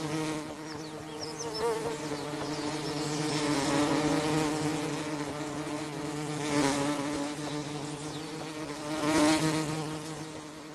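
Bees and wasps buzzing around hummingbirds at feeding flowers, a continuous layered insect drone with several louder passes swelling close by, and no talking.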